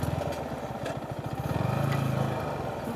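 A motorcycle engine chugs at a steady mid-range rhythm on an evening ride beside the Padma river, fairly close and continuous with a slight rise in pitch toward the end, no talk over it.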